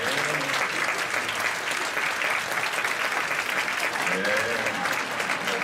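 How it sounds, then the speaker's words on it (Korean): Worshippers at a Friday night church service give sustained applause for a stroller group on stage, a thick continuous roar of many clapping hands with faint murmuring voices underneath. "자, 우리 유모차 무대를 위해서 박수 한번 치겠습니다."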